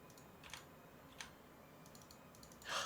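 A computer mouse clicks during a Lineage item enhancement: a few faint, sparse clicks, then a brief louder clatter near the end, quiet and close with no voices.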